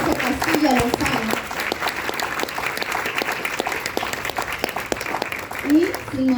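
An audience at a book presentation claps steadily for an author, a dense, even round of hand claps filling the room, with a few voices briefly audible beneath it.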